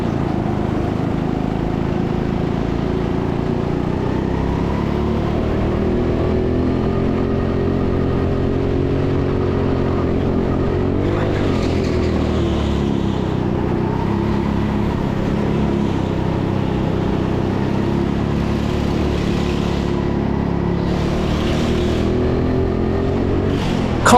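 Go-kart engines during a 50-lap race at TeamSport Sheffield indoor karting, a loud, continuous engine drone with shifting pitch as karts accelerate and pass, steady throughout with no voices.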